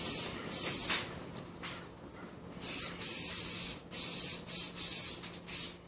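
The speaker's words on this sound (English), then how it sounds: "We're going to spray our adhesive just on the tips of the blades of this thing" An aerosol can sprays adhesive onto the blade tips of a star-shaped washer board piece in a run of close, sharp hissing bursts, some short and some lasting about a second, separated by brief pauses.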